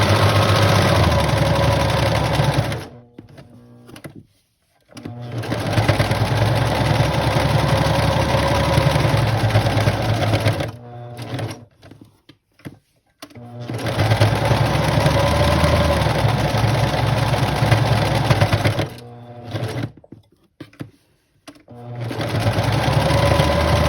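A sewing machine stitches a rustic farmhouse potholder in three long, loud, steady runs, each broken by a short pause, ending with a backstitch over the last section.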